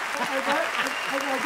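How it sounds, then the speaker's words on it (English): Boys cheer in the background, a distant, continuous crowd-like roar under a nearby voice. "They're cheering in the back."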